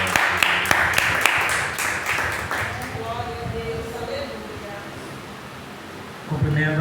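A church congregation applauds a brother welcoming him to the front, a dense burst of clapping that thins and fades over several seconds, followed by a voice starting to speak.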